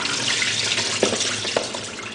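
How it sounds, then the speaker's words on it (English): Running water pours steadily over defrosted shrimp draining in a colander, a continuous rushing wash with a couple of faint knocks partway through. "we just want to go ahead and drain them in a colander"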